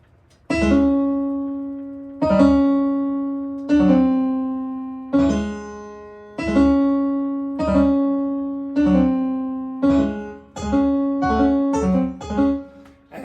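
Piano exercise in which the last note of each short group is held long: quick note runs resolving onto sustained, decaying tones, the groups coming faster and closer together near the end, close and clear, with no speech.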